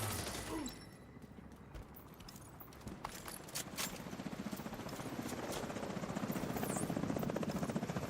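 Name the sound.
helicopter in The Division video game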